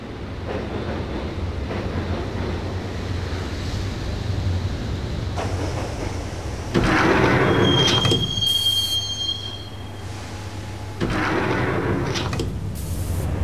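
Subway train ride in the video game Max Payne, heading to Roscoe Street Station: a steady rumbling carriage with rattling wheels, a sharp metallic squeal of wheels on rails mid-ride, and surges of louder clatter, with no voices.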